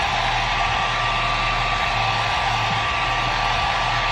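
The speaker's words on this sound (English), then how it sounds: "I'm gonna use this hairdryer to dry my lashes" A hair dryer blows steadily to dry eyelashes, producing a loud, close, continuous whooshing roar with a low hum that holds unchanged throughout, without speech.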